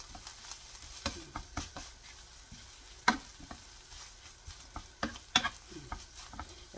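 Dried chwinamul greens stir-fried on low heat, a soft sizzle under repeated light scraping and tapping strokes of the utensil, close and fairly quiet, with no talking.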